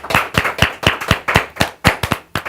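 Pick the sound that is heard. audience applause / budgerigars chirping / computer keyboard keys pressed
audience applause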